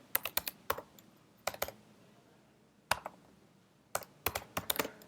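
Someone typing on a computer keyboard while writing HTML, with quick clusters of crisp key clicks broken by short pauses, close and fairly quiet, with no talking.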